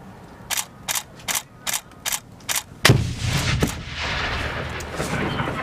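A live hand grenade during US Marines training, preceded by a run of sharp evenly spaced cracks, then one heavy booming blast that trails into a long rolling rumble in open air.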